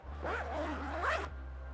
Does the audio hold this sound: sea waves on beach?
no